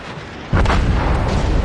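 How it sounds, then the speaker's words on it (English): A battleship's main guns firing in the naval game World of Warships: a single loud, deep boom that erupts suddenly and rumbles on, heavy and close. "Blind firing."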